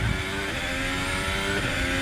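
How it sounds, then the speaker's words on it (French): Formula 1 race cars at the 2018 French Grand Prix, a loud, continuous high-pitched engine roar with shifting tones as cars pass close by, no talk over it. "Dans le 10e tour, Daniel Ricciardo passe Sainz pour la 3e place."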